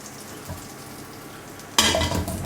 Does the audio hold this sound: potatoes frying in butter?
yes